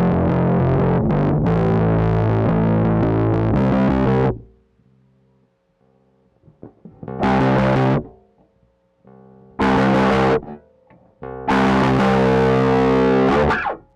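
Bass guitar with its tone knob rolled fully dark, played alone through effects: a phrase of notes for about four seconds, a near-silent gap with faint sustain, then three short loud bursts of playing.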